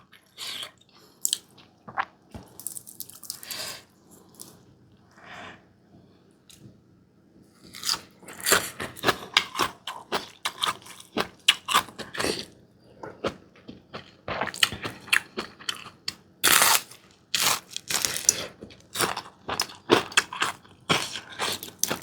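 Crunchy bites and chewing of small white pomfret fried crisp with garlic, bones and all, eaten with rice and lime chili dip; close, loud irregular crunches coming in bursts with short pauses.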